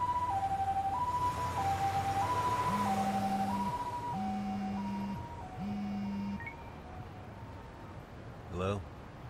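Ambulance siren in the video game Lost Judgment, a steady two-tone wail alternating up and down while a lower repeating horn-like tone joins, then the siren fades away and a brief burst of noise ends it.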